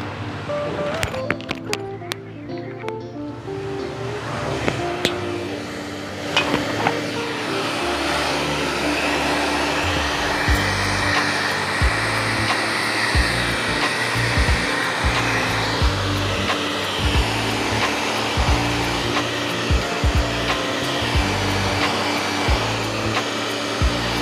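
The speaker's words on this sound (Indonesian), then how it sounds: "kita akan keringkan dengan hair dryer" A handheld hair dryer blows hot air over freshly screen-printed three-color ink on t-shirt fabric, a loud, steady whooshing drone that rises after a few seconds of handling noise and runs on continuously.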